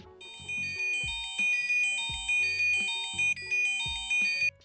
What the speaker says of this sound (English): The BT lost alert we just saw was very loud